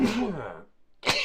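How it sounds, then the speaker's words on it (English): A single sneeze from a man, short and moderately close, preceded by a brief breathy intake and his speech just before it. "Oh, I'm gonna sneeze."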